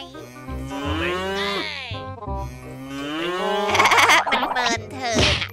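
A cartoon cow in a video game moos repeatedly while eating watermelon, giving long, drawn-out, loud bellows with short gaps between them.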